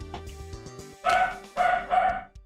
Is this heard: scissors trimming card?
no